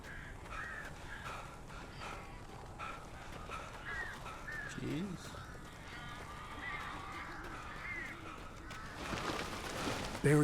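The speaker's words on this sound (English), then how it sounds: "These birds are weird." Crows caw several times at scattered moments in the horror game Alan Wake Remastered, moderately loud over a steady ambient game background with a low voice briefly heard.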